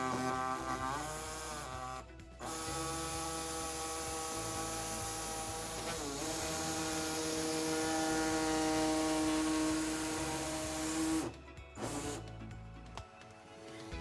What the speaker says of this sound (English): today we'll be using an air saw to trim our fascia